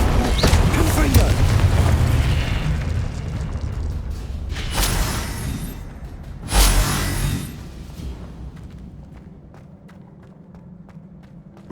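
Confringo blasting spell explosion in the Hogwarts Legacy video game on PS5: booming blasts and whooshes over rumbling game noise, with two strong bursts in the middle before the sound fades out. Spell incantations are spoken around them.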